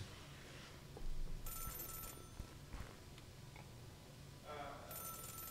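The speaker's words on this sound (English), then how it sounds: "Oh, and a phone." A telephone ringing in the video game Celeste, with bright bursts of ringing at the start and end over quiet game ambience and light background sound.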